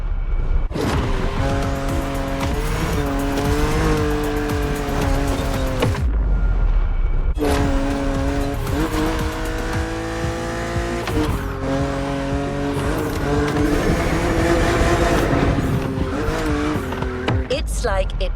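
BMW car driving in the racing game The Crew Motorfest, revving engine tones climbing and dropping through gear changes with tire noise and a brief lull near the middle, loud and close, with a voice speaking over it.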